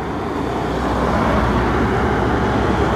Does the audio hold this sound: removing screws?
no